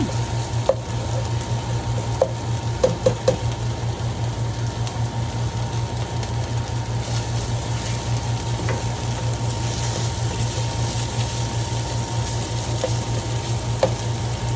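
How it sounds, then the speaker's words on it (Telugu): Garlic paste fries in a pan with a constant close sizzle and hiss under a steady low hum, with occasional sharp clicks of a utensil against the pan. "వెల్లుల్లి పేస్ట్ పచ్చి వాసన అంతా పోయేదాకా కొంచెం బాగా వేగనిచ్చి"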